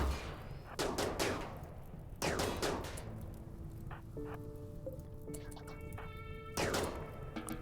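Sharp gunshots crack out in the RimWorld colony game as colonists fire at a wall, a few loud separated bursts with quieter game tones and blips between them.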